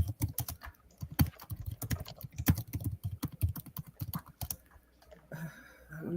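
Fingers clatter across a computer keyboard in quick, uneven bursts of close, crisp keystrokes, then the typing pauses near the end as a faint background tone rises.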